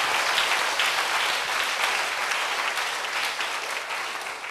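A church congregation applauding at a Sunday worship service, a steady, dense wash of clapping from many hands that holds throughout, fairly even in level and slowly tapering, with no talking over it.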